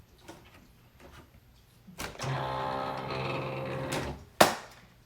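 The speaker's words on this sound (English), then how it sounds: "I'm going to load them into my machine." A Silhouette Cameo cutting machine takes in two vinyl pieces: faint ticks, then a steady mechanical whir for about two seconds, closing with a sharp, close clack.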